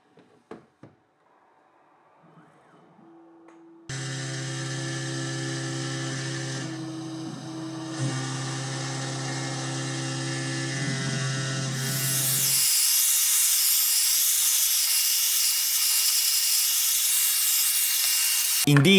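Makera Carvera Air desktop CNC milling machine cutting a metal part, a steady high whine and grinding that starts abruptly, shifts tone partway, then turns to a hissing, airy rush near the end, close and loud with no talk.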